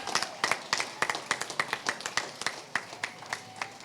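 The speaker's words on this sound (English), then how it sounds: "Give them a round of applause while they come up" A small crowd claps for the Fiesta Days Grand Marshals, Wayne and Melanie Anderson, giving a moderate, slightly uneven run of distinct claps close by, with no voices over them.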